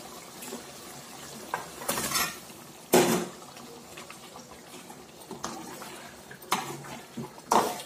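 Eggs are added to a thick cashew egg gravy in a pan and stirred, with a spoon scraping and clinking against the metal pan in several distinct strokes over a quiet simmer.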